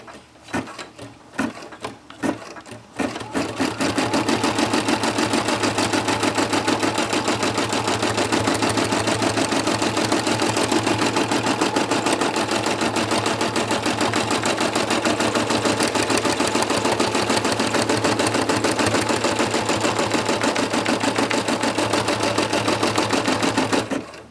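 An embroidery machine stitches applique fabric down, starting with a few separate thumps before settling into a fast, steady mechanical chatter that runs close and loud for over twenty seconds.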